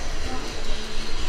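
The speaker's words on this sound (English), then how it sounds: "they actually have a train that goes up across the top" Small tourist train at a ginger factory attraction in Queensland running overhead, a steady loud rumble and rattle close by, filling the short moment with dense noise.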